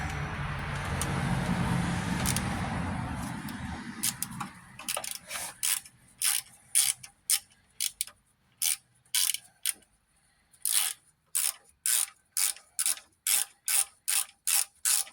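Ratchet wrench fastening the power steering pump on a 2007 Cadillac Escalade, rapid clicking strokes in steady bursts, close and clear after a muffled rustling start.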